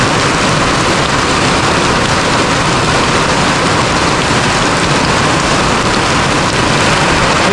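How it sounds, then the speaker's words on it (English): Heavy rain pours down on a village in Kenya, a dense, loud, continuous hiss and patter that never lets up, with no voices. "Heavy rains out here in the village, guys."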